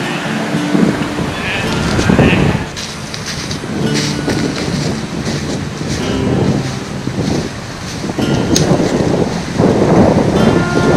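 Strong wind rushes through a birch forest in a steady, loud roar with gusty swells and heavy buffeting on the microphone; no one speaks.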